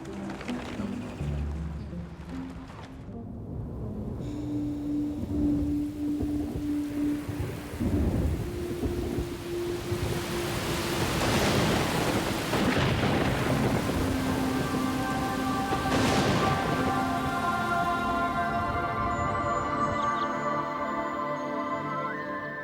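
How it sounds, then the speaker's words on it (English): Steady rain pours down over grassland while thunder rumbles and cracks overhead, building to heavy rolling peaks; no voices. "It's raining."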